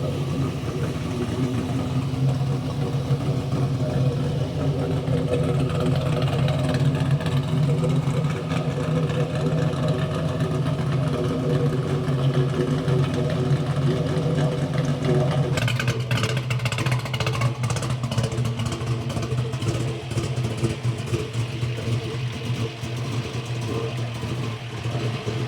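A 1967 Ford Mustang fastback engine runs steadily for the whole stretch, a loud, close, rumbling idle whose tone shifts partway through, with no talking over it.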